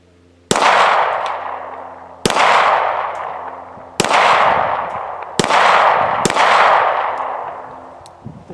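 A Jericho pistol fires five loud, sharp shots spaced roughly one to two seconds apart, each crack followed by a long ringing echo with nobody talking.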